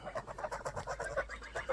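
Soft, rapid honking and cackling from a gander nearby, a quick string of short nasal calls at low volume.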